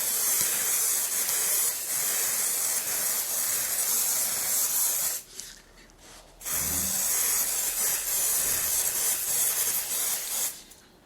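Satin varnish sprays from an aerosol can onto a gouache painting in two long, steady hissing bursts separated by a short pause, close and fairly loud.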